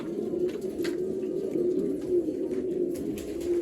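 Pigeons coo steadily in a breeding loft, a continuous low warbling murmur from several birds filling the space, with faint rustles and small chirps scattered over it.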